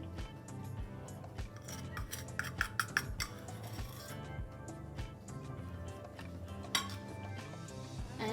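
Half-teaspoon measuring spoon clinking against a container while scooping baking powder for blueberry muffins; light metallic taps and scrapes come in small clusters over a low kitchen background.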